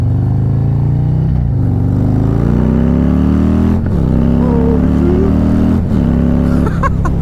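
A 2020 Harley-Davidson Softail Low Rider S fitted with a 131ci stage 4 crate engine, loud deep rumbling V-twin pulling through rising revs in several surges, heard close up while riding.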